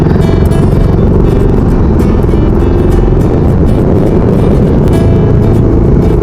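Dense morning road traffic of cars and motorcycles in the Philippines, a loud, steady wall of idling and revving engines close by, with no talk.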